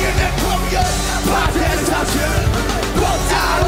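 A rapper lets out a loud yell during a live performance, a brief shout over dense music and crowd noise.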